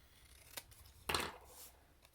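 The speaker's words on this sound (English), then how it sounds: "And I'm just angling this with my snips" Craft snips cut designer paper into a small banner for a handmade card, giving a faint single snip followed by a louder, longer crunching cut close by, in a quiet room.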